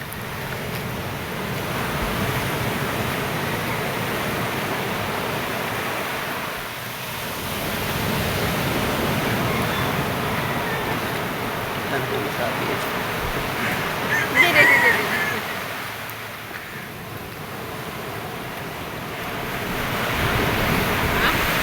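Sea waves wash onto a beach in steady broadband surges, rising and falling over about twenty seconds, with wind buffeting the microphone and faint voices now and then underneath.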